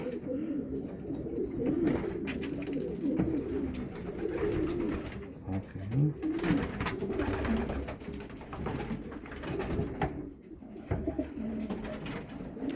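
Racing pigeons in a loft coo continuously, a soft overlapping murmur of many birds close by, with occasional wing flutters and no talking.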